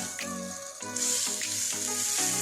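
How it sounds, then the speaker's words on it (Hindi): Tomatoes and vegetables stir-frying in a pan for chicken jalfrezi, a steady loud sizzle with a few clinks and scrapes of stirring, close and continuous with no talk. "और टमाटर के साथ वेजिटेबल्स को फ्राई करें।"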